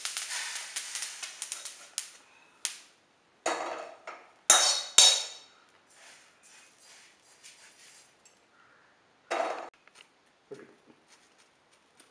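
Irregular bursts of crackling and popping from sesame seeds roasting in a hot pan, loud clusters separated by quiet gaps, close by.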